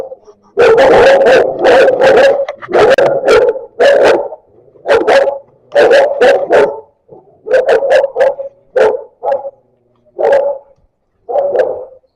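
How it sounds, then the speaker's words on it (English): Guard dogs bark loudly and close by in Sicily, in Mazara del Vallo, firing repeated bursts of deep barks and yips with short pauses between volleys, no voices. "looks like they're not at home, so they let the guard dogs out."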